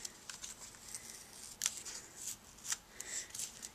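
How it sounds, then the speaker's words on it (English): Tape carefully peeled off the back of paper, a faint, close series of short crinkly rips and papery rustles in uneven bursts. "I'm going to very carefully get the tape off the back."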